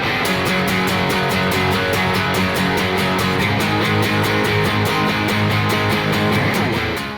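Isolated guitar stem: a loud, dense wall of distorted rhythm guitars with steady driving strums throughout, no voices.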